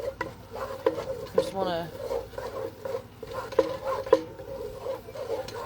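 Flour and turkey noodle gravy are stirred around in a pan, giving soft scraping and clinking of a utensil against the metal beneath a voice talking.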